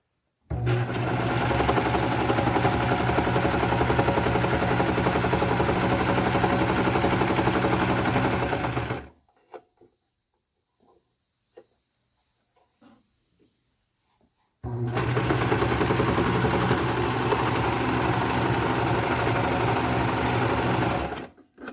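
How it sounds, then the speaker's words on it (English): A serger runs loud and steady over pillowcase seam stitches, one long continuous mechanical whir, a quiet pause with faint handling noises, then another sustained run of the machine. "You always want to make sure that you serge over your stitches, because that is basically a locking stitch."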